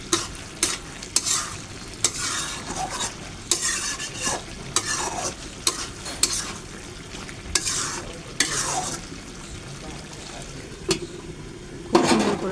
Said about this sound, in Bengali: কিছুক্ষণ পর ঢাকনাটা উঠে তরকারিটা আবার সুন্দর করে নাড়াচাড়া করে নেব।